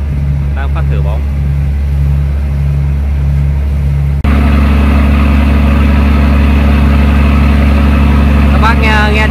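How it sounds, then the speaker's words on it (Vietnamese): A fishing boat's engine drones steadily while it sits moored in port during a test of its 150 extra-bright lamps. The deep, constant hum grows noticeably louder partway through, and faint voices can be heard over it. "Các bác nghe tiếng máy nổ này có biết được máy gì không ạ?"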